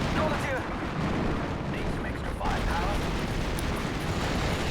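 Dense, continuous gunfire and artillery in a Normandy 1944 battle in Steel Division, a steady broadband roar of overlapping shots and distant blasts with no pauses, running under a voice talking.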